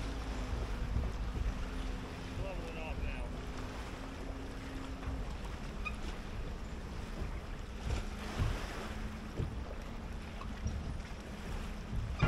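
A fishing boat motors across choppy water, its engine droning steadily beneath wind buffeting and the slap and rush of waves throughout.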